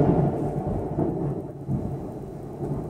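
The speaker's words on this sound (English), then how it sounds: "I'm going to protect myself from this loud thunder and save myself from certain hell." Loud thunder rumbles low and deep in rolling swells over steady rainfall, heavy and sustained with no voices.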